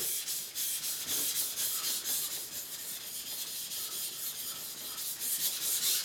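A single-bevel Japanese knife blade is rubbed back and forth on a medium-grit whetstone with a rolling motion, giving a steady, close, gritty scraping in quick repeated strokes with no talking.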